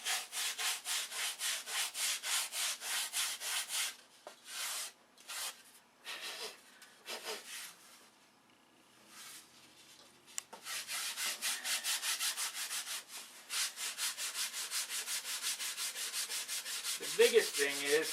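Wood being sanded by hand in quick, rhythmic back-and-forth strokes. The scratchy rasping stops for a few seconds midway, then resumes steadily.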